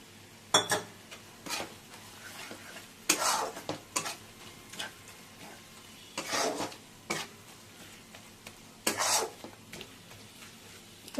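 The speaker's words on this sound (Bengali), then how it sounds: "এবার আমি দিয়ে দেব এই গুঁড়ো করে রাখা মশলাটা" A spoon scrapes and clatters against a pan as ground spices are stirred into frying onions and chopped tomato, with bursts of rhythmic stirring and metallic scraping at irregular intervals and a soft sizzle underneath.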